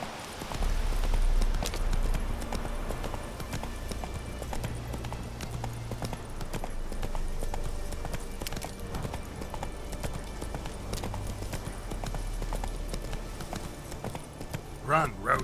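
Horse galloping in The Witcher 3 video game, rapid hoofbeats running steadily under a low rumble of game sound and music, with speech heard over it at times.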